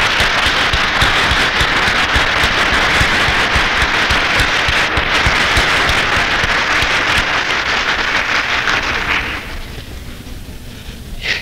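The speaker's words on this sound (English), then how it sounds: "I'd like to have you give an applause" An audience at a Cesar Chavez Day 2017 event applauds after pre-program entertainment. Thick, loud clapping runs steadily for about nine seconds, then thins and fades to scattered hand claps near the end.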